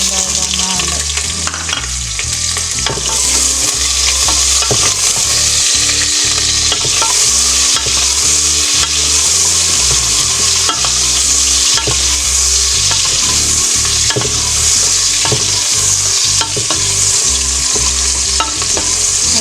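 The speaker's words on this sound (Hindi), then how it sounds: "वो ऑयल मैंने डाला था गरम करने के लिए, डाल दिया था। तो आप प्याज डालते हैं इसमें" Chopped onions frying in hot oil for aloo gosht, a loud steady sizzle with frequent scraping stirs of a spoon against the pot, no talking.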